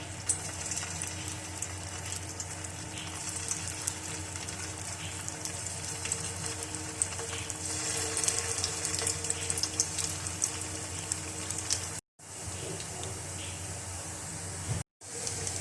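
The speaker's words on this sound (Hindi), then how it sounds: "फ्राई पैन में मैंने ऑयल डाल दिया है। अब इनको फ्राई कर लेंगे।" Vegetable kofta frying in oil in a frying pan give a steady, dense crackling sizzle throughout, broken by two brief cuts near the end.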